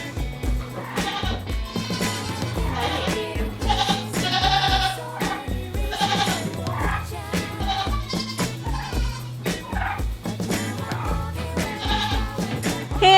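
Goats bleating in a farmyard on a sunny winter day at feeding time, repeated calls sounding over a dense, steady background.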